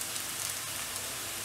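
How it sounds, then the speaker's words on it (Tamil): Garlic and ginger sautéing in oil, a steady close sizzle throughout with a brief louder burst of stirring at the very end. "இப்போது இந்த பூண்டும் இஞ்சியும் சேர்த்து நல்லா வதக்கி விடணும்."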